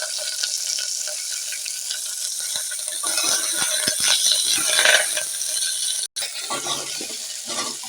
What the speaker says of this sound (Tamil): பெருங்காயத்தையும் சிறிது சேர்த்துக்கிறோம் கருவேப்பிலையும் போட்டுக்கிறோம் வெங்காயம் சிறிய வெங்காயத்தை